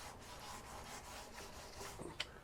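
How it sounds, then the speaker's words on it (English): Sandpaper on a soft block rubbing by hand over the contoured body of a 1963 Chevrolet C10 during wet sanding, heard as a few quiet back-and-forth strokes close by. "literally just put that sandpaper right inside that"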